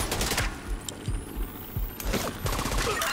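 Rapid automatic turret fire at a main gate in The Division 2 on PC, a dense fusillade of sharp, repeated shots with mechanical rattling over constant loud background noise.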